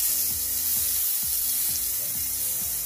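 Potatoes and tomatoes seasoned with cayenne sizzle steadily in a frying pan, a dense close hiss with faint scraping stirs now and then, no voices.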